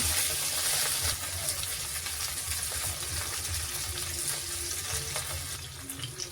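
Continuous crackling sizzle of cauliflower frying in oil, with light stirring scrapes; steady and close, no voices.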